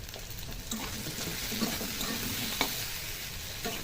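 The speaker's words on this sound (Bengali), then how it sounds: "আলুটা ভাজা হয়ে গেছে, মশলাটা একটু কষে এসছে" Potatoes fry in oil with turmeric, salt and spices for a Bengali katla fish curry, making a continuous soft sizzle with stirring scrapes and occasional clinks, fairly quiet and steady throughout.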